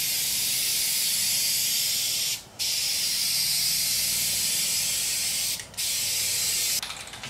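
A steady hissing spray gun applies paint to the trunk lid of a 1990 Miata, holding long continuous passes that break off briefly twice before a final stop.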